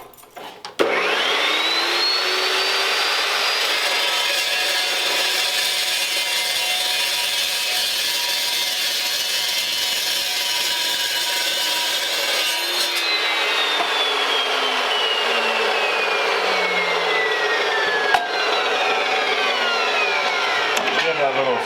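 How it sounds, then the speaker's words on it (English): A small power sander runs in a shop where a 1932 Ford roadster is being worked on, holding a steady high whir for about twelve seconds, then winding down with a falling pitch while faint shop noise continues. "That little sander."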